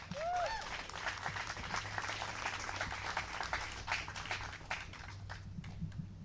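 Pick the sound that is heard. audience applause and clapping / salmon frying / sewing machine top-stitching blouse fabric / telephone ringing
audience applause and clapping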